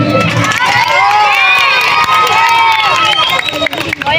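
A large outdoor crowd at a furniture shop inauguration cheers and shouts loudly and continuously, a dense roar of voices with whistles and applause close by.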